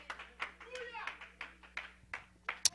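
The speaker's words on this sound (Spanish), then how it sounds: "Démosle un aplauso al Señor," A church congregation claps in a steady, fairly sparse rhythm, with sharp, close hand claps repeating about three times a second under a voice talking through it.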